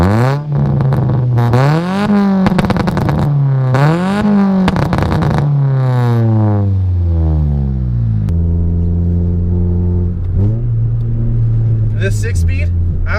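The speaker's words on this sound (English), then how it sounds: "it produces amazing crackly pops out the exhaust" Nissan Sentra SE-R Spec V engine revving repeatedly through rising and falling sweeps, then settling to a lower drone with exhaust rumble, loud and close, with a voice speaking over parts of it.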